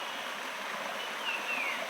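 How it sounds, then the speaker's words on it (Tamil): A small roadside waterfall pours steadily, a continuous broadband rush of falling water heard close and alone, with a faint high whine passing briefly near the end. "ஒரு குட்டி அருவி"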